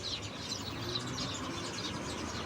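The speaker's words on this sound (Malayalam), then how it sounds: "മൊത്തം കിളികളിങ്ങനെ കരഞ്ഞുകൊണ്ടിരിക്കുകയാണ്" Many birds chirp and call together in a tree in hot Gulf weather, a dense chatter of overlapping tweets at moderate distance with steady background noise.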